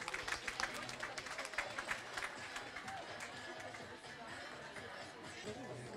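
Dense clapping from a large crowd of school students at a lower secondary school event, with cheering and babble mixed in, strongest at the start and then settling into steady applause.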